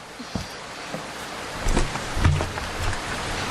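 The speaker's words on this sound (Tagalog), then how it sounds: "Kaya nga nagmadali ako pa uwi pero naabutan pa rin ako ng ulan." Rain falls as a sound effect in a radio drama, a steady broad hiss of downpour with a few soft low thumps rising midway, heard alone without speech.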